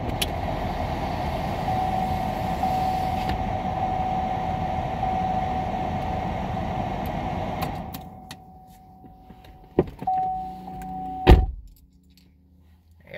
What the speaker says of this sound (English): I gotta roll this window up, it's starting to rain.